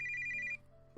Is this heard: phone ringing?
yes